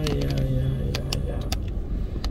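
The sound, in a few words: car driving through storm-damaged Jūrmala streets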